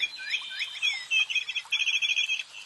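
Bright, high chirps and rapid trilling phrases from songbirds in woods, clear and fairly close with quiet surroundings.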